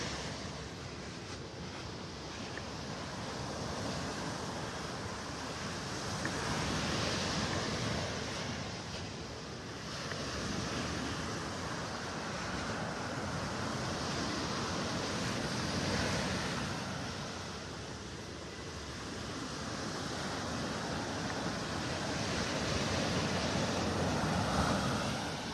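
Ocean surf on Vanderbilt Beach in North Naples, Florida, washes in churned-up waves: a continuous broadband roar swelling and ebbing in long surges, with wind buffeting the microphone and no talking.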